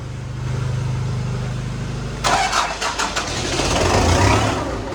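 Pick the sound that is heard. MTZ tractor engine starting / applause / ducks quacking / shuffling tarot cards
MTZ tractor engine starting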